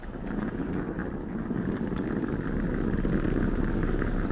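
A bus pulling in at the bus and train station in Galway, a steady low engine rumble that grows slightly louder, with wind noise and no talk.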